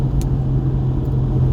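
Jaguar E-Type V12 coasting on engine braking, a loud, close, steady low rumble with a droning hum and no talk over it.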